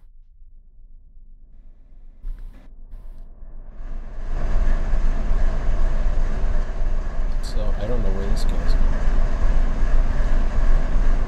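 The heavy rumble of trains in the Run8 train simulator game builds and then rolls on steadily and loudly, while someone talks over it.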